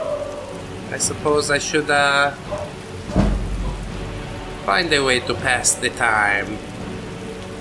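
Steady rain in Skyrim falls as a soft background hiss, with a low rumble of thunder midway. Someone talks over it in short bursts.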